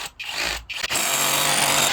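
An SDS drill bores into masonry for an anchor bolt: a couple of short starts, then a steady, loud grinding whir of hammering and spinning carrying on without pause.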